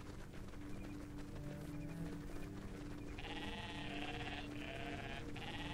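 Sheep bleat repeatedly over a busy, continuous background in the video game Everything, several wavering cries in the second half.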